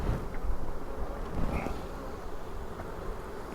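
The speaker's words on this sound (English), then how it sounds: "We got bees." Bees swarm around a beehive, their close, dense buzzing continuous throughout, with faint rustling and handling noise underneath.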